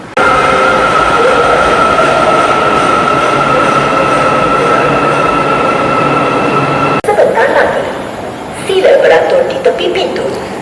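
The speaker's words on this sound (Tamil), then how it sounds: "புத்திரஜயா போகிற ட்ரெயின்" A Yellow Line metro train to Putrajaya in Malaysia rumbles and whines into a station, a steady loud roar with a tonal hum, ending in braking squeals and a door chime.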